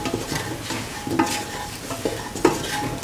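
Potatoes being stirred with garam masala spices in a frying pan, soft scraping stir strokes and light clinks of a utensil over a low sizzle, close and without voices.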